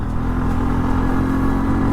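A Bajaj Pulsar N125 125cc motorcycle engine hums steadily and loudly while riding at speed, with wind noise mixed in and no talk.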